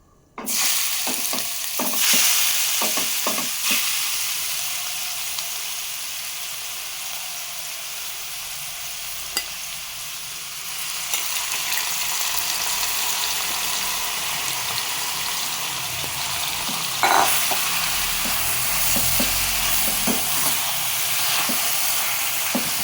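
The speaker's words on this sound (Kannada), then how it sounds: "ನಂತರ ಈಗ ನಾನು ತುಪ್ಪದಲ್ಲಿ ಈ ಬುದ್ಗುಂಬಳಕಾಯಿನ ಹಾಕ್ಕೊಳ್ತಾ ಇದ್ದೀನಿ" Ash gourd frying and sizzling in ghee in a pan for halwa, stirred now and then with scraping clinks. A steady, loud hiss runs throughout, with no voices.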